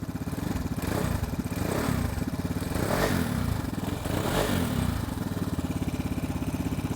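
A Vespa Sprint or Primavera scooter fitted with an Akrapovic exhaust, up on its center stand, revving steadily with a loud, close mid-pitched engine note that rises and swells in a few repeated pulses.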